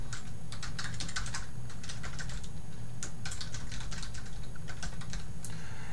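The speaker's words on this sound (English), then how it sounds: "You will type your email address in." Someone types quickly on a computer keyboard, a close, steady patter of light key clicks with brief pauses and no speech.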